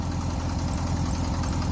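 An aircooled VW engine idles steadily right after start-up, a close, continuous low throbbing rumble with an even pulse and no talk.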